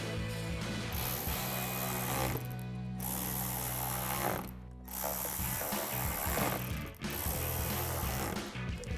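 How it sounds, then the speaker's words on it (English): Ratchet with a 7mm socket tightening bolts on a 2014-2019 Corvette Morimoto XB LED tail light, a rapid continuous clicking in several long bursts separated by short pauses, close and clear. "We can grab our ratchet and 7mm socket, put the rest in too."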